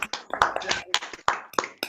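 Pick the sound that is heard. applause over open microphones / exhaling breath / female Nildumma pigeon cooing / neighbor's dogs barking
applause over open microphones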